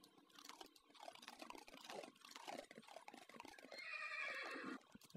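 A horse in the Minecraft video game snorts and whinnies, with clip-clop hoof sounds and splashing water, the sounds coming in bursts and ending in a longer neigh.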